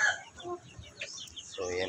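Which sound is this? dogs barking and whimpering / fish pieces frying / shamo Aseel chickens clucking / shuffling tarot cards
shamo Aseel chickens clucking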